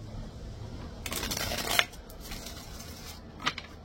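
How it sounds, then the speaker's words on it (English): Tarot cards are shuffled by hand on a table, giving soft riffling and a couple of sharp slapping snaps against a quiet room, close and with no voices. "One more shuffle."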